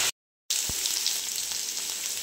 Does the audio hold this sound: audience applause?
no